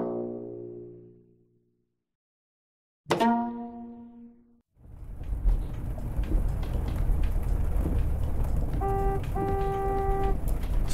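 Heavy rain pours down as a steady, loud broadband hiss that begins abruptly a few seconds in and continues to the end, with brief horn-like tones near the close; a short voiced sound comes first, before a pause.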